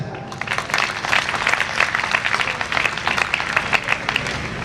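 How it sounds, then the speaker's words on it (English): An audience at a medical college convocation ceremony claps steadily, a dense, sustained wash of many hands applauding together that stays fairly loud and even across the whole stretch, with no one speaking over it. "which you may express through a thunderous clap"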